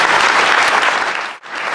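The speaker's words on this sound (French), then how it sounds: "Merci Guy, on peut l'applaudir donc Guy Jouvin." An audience applauds at a celebration for a junior world champion in Plouvien, dense clapping filling the room loudly before cutting off sharply near the end.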